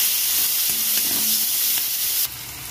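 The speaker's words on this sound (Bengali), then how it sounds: "ওই তেলের মধ্যে দিয়ে দেবো পেঁয়াজ কুচি, দুটো চিড়ে রাখা কাঁচা লঙ্কা আর রসুন থেতোটা দিয়ে একটু ভেজে নেব।" Chopped onion, green chillies and crushed garlic frying in hot oil, a loud, steady, close-up sizzle and hiss that drops slightly in level near the end, with no voices.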